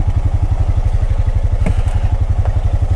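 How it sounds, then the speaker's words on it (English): Pioneer 520 side-by-side engine idling outdoors in snow, a loud, steady low thumping pulse with a rapid even rhythm and faint clattering, no talk. "I'm not going to shut the side-by-side off for fear of it not starting back. We're going to leave him idling for a minute."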